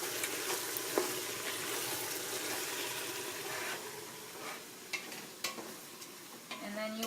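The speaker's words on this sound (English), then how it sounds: "I'm going to add the tomatoes, which are not coming out. I'm going to mix those in." Tomatoes being stirred into onions frying in a pan: a steady close sizzle with scraping stirs and occasional utensil knocks, no talk.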